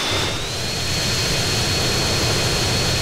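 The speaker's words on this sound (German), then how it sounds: "Ich muss sagen, ich mag das Flugzeug hier." An airplane engine in GTA San Andreas drones continuously, a loud, steady jet-like roar with a thin high whine riding on top, unbroken throughout with no talking.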